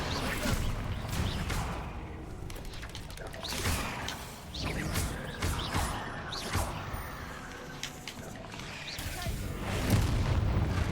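Bombarda spell blasts in Hogwarts Legacy go off in a room amid crashing debris and whooshes, a dense, continuous stream of booms and smashes with a spoken voice mixed in.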